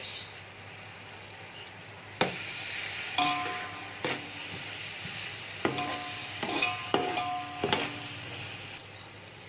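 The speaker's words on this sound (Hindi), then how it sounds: "अब मैं इसमें कटे हुए टमाटर और सब्जी मिर्चें डाल दूंगी और टमाटरों को गलने तक पकाऊंगी" A spoon stirs chopped tomatoes and green chillies cooking in a pot for chicken haleem, producing scattered metallic scrapes and clinks over a soft, steady sizzle.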